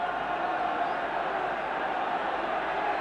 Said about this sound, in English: the crowd roaring heave, heave to the Welsh pack